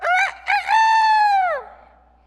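A rooster crows a loud, close cock-a-doodle-doo: two short rising notes, then a long sustained call that falls away at the end, heard alone against quiet.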